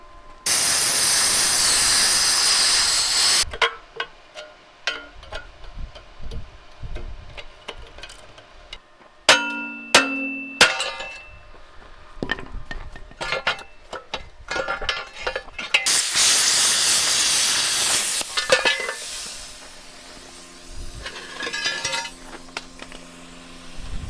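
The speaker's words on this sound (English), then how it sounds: "We got a plasma, so it's plasma. Nothing special, just a Harbor Freight plasma gun." A Harbor Freight plasma cutter slices through a 2005-or-newer Dana 60 axle, giving two long, loud roaring hisses with sharp metallic clanks and rattles in the quieter stretch between them.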